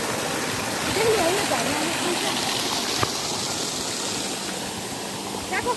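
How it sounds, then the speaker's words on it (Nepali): A waterfall and stream near Fulchowk in the Dakshinkali area pour with a steady, close, broadband rush of water, while people talk over the constant flow. "कस्तो झरना नि"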